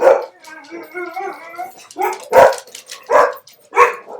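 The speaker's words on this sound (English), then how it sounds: "That's my dogs." Pet dogs barking indoors at home, several sharp, close barks in quick bursts with a short whining, yelping stretch, heard behind a lecture.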